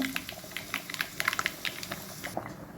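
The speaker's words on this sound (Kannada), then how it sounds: "ಸಾಂಬಾರು ಕುದಿತಾ ಇದೆ" Close, lively bubbling and popping of a pot of sambar at a boil, rapid irregular blips throughout, no talking.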